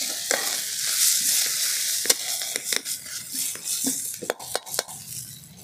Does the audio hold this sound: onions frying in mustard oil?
yes